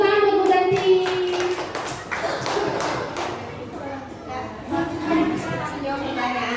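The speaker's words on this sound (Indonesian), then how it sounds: "Tepuk tangan buat Bu Danti" A burst of hand clapping from a small group rises and fades over several seconds, with a voice speaking over it.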